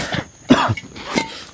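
A few rough coughs close up, one sharp hack followed by a couple of weaker ones over about a second.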